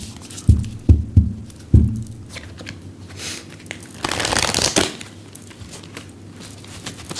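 Tarot cards are shuffled up close during a numerology reading. A few soft thumps and riffles come first, then a longer papery rush of cards sliding together, all fairly quiet and with no talking.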